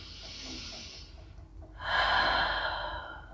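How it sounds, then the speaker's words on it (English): Deep breathing during a yoga session: a soft airy inhale, a brief pause, then a louder, fuller exhale close to the listener, with no talk. "One more big inhale and exhale here."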